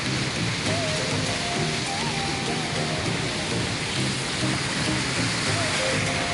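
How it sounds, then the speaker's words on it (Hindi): Water pours over the overflow point of the BRB canal in a steady, loud broadband rush with no break, with a voice faintly audible underneath. "ये देखें पानी नीचे जा रहा है, तो नीचे गिर रहा है"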